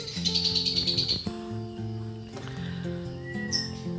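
A weak, recovering white-rumped shama (murai batu) gives thin, high chirps and tweets, close and fairly steady, with a tonal background hum underneath.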